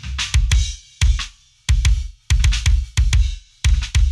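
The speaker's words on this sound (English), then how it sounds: "I started with, again, another tube tech, which is great for kick drums." A processed kick drum in a death metal mix, treated with three plugins including a Tube-Tech EQ, pounds in rapid clustered hits, loud and close with a bright click over deep low thump, and no voices.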